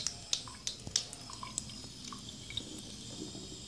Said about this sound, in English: water's just running off of the shoe